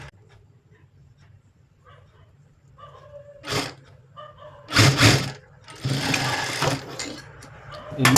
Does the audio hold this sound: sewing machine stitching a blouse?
yes